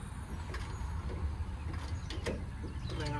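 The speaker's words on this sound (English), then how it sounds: "So now I'm to the point that it's starting to get to the cylinder jacks and the cab starting to lift." Cylinder jacks raise the cab of a Freightliner cabover truck with a steady, low mechanical whir broken by faint clicks and creaks. It is heard close up at moderate volume.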